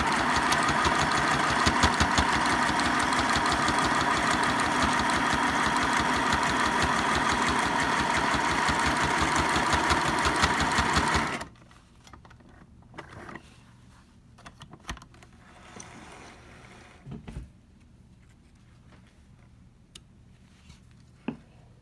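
A sewing machine stitches a fabric medical mask with a steady, fast mechanical whirr running loud and continuous, then stops abruptly halfway, leaving quiet room sound with a few small clicks and handling noises.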